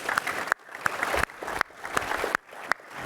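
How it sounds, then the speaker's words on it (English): Audience applause at a conference talk on game analytics, a dense wash of clapping with sharp loud claps popping out, breaking off and restarting in bursts. "sorry you guys have to clap so much"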